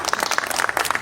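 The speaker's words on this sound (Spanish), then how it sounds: "Un aplauso para Arte." A lecture audience at an in-person panel talk claps steadily and briskly, a dense patter of many hands close by.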